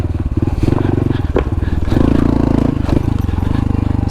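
A Honda Trail 125 fitted with a Yoshimura exhaust and spark arrestor, its engine putting out a close, loud, rapidly pulsing idle and low-speed chug that swells briefly as the throttle rises.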